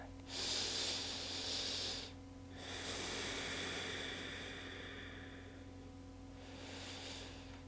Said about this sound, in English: Deep, full breaths in and out through your nose.